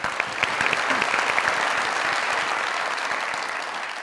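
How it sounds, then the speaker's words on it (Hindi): Studio audience on a comedy show applauding a poet, dense continuous clapping at a steady level throughout, with a few brief whoops near the start. "असद अवान साहब के लिए ढेर सारी तालियां।"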